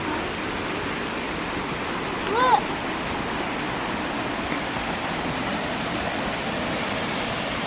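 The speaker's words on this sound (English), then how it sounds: "Got this little creek here." A small creek running through a park gives a steady, even rush of flowing water from start to finish. A single brief chirp rises over it partway through.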